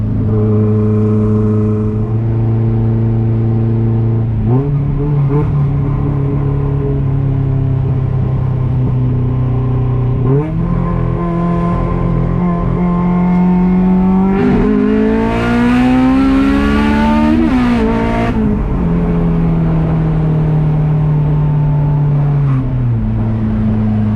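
A Honda CRX with an all-motor B17 engine pulls hard under acceleration, its loud, steady engine note climbing in pitch and dropping sharply at each quick gear shift, about four shifts in a row, with no talking.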